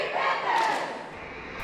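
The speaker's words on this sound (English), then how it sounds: "Now, take us out with a cheer." A girls' high school sports team shouts a cheer together, a loud unified burst of many voices sustained for over a second with crowd noise behind it.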